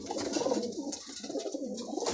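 A breeding pair of old bloodline Madrasi pigeons coo in close, throaty repeated phrases with a rolling rhythm, near and fairly clear.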